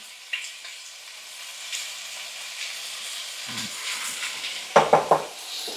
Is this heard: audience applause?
no